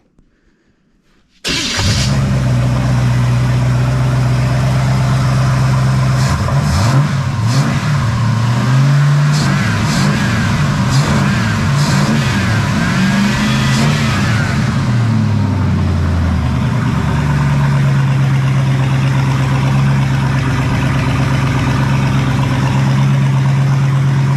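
An old 1974 Pontiac Ventura engine cranks and catches, then runs roughly with uneven revving before settling into a steady, loud idle close by.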